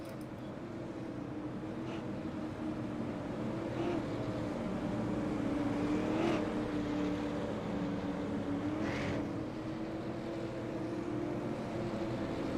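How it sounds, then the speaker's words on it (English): Late model stock race cars circle a track, heard as a distant, continuous engine drone that swells slightly with faint passing whines. "So drivers coming down pit road, they're using this opportunity right now to take some chance to do some damage."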